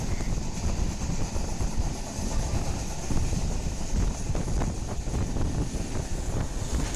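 Steady loud rumble and clatter of a passenger train running at about 130 km/h on the Vizag to Warangal line while rounding a curve, with wind buffeting the microphone throughout.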